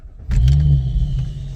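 An Audi S5 with a Stage 2 ECU tune starts up. The starter catches, the engine fires with a quick rev, and then it settles into a steady low idle, loud and close.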